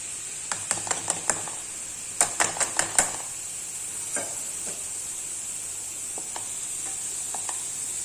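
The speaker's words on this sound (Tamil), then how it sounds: "எள்ளு வந்து படபடன்னு பொரியும் பார்த்திங்களா" Sesame seeds roasting in a hot kadai, with quick sharp pops and stirring clicks in clustered bursts, loudest early, then sparser crackles over a steady faint hiss.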